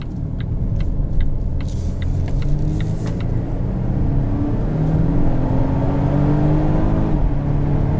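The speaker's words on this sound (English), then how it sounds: "It's a supercharged 4-cylinder." A 2019 Volvo XC90 T6 R-Design with a supercharged and turbocharged four-cylinder engine drives along, its steady low rumble and whir filling the cabin with a gradual rise in pitch and faint clicks near the start.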